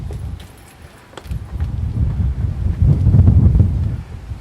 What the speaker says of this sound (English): Very windy here. Let me know how the mic handles this wind.